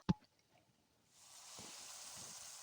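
Goat meat cooks in a covered pan for a thin potato curry. After a single sharp knock, a soft, steady sizzle and hiss builds and holds at low volume under the lid.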